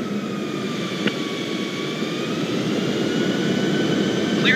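Jet airliner engines roar during a takeoff roll in Microsoft Flight Simulator 2020, a steady broad rumble with a high whine that gradually rises in pitch and strength, heard alone.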